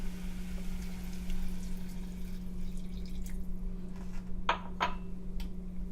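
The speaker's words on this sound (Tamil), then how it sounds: "இப்போது தேவையான அளவு தண்ணி ஊற்றுறேன்" Water is poured into cabbage gravy in a cooking pan, heard as a couple of brief, faint splashing bursts near the end over a steady background hum.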